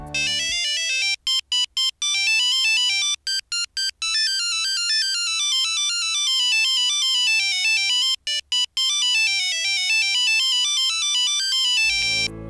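A Motorola C200 mobile phone plays a monophonic ringtone, a loud, bright beeping melody of rapid single notes with a few short pauses, heard alone and close up.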